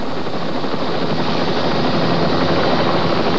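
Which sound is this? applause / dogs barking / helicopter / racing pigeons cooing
helicopter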